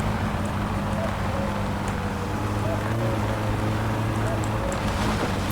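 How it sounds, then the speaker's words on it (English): In the driving game My Summer Car, the car's engine runs in a steady, rumbling drone with a low idle hum and broadband noise, constant and fairly loud throughout. "This is also a good time so you can hear the engine."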